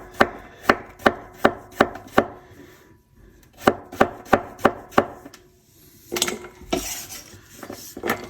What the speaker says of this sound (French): on va les couper comme ça et on va faire des tranches de 3-4 mm.